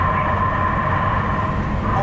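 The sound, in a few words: Regional Connector metro train running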